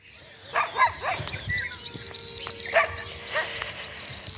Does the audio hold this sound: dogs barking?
yes